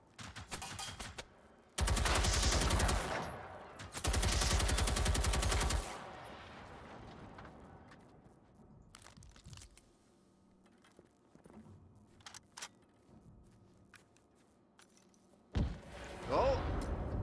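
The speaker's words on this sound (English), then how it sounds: "Oh, that's the cannon." In the Generation Zero video game, a cannon fires in two loud, booming bursts, each lasting a second or two, followed by quieter scattered game sounds and softer thuds.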